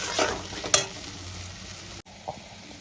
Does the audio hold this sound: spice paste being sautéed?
yes